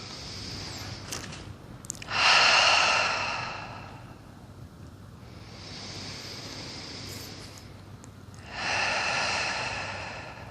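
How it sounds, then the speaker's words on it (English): Two long, slow breaths exhaled out through the mouth during a grounding slow-flow yoga practice, each a soft airy whoosh rising and fading, close and quiet with a faint hush between them. "you might like a few rounds just exhaling out the mouth"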